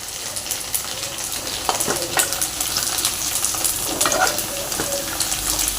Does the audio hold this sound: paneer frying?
yes